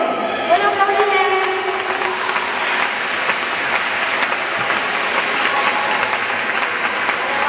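An audience applauds a contestant at a mathematical puzzle solutions event, a continuous broad wash of clapping from a sizeable crowd, moderately loud and even from start to end.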